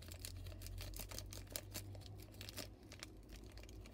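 Tops of Pokémon V Max Rising booster packs being cut open, with rapid crinkly foil snips and rustling, close but fairly quiet over a low steady hum.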